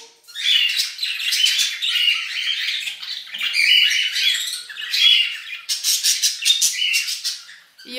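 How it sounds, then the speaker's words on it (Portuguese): Two pairs of budgerigars, one white and one blue, chattering and chirping continuously, a busy stream of high squawks and tweets close by, with no talk. "Como vocês sabem, eu tenho dois casais de periquito."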